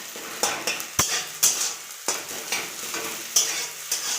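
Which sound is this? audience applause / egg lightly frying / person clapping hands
egg lightly frying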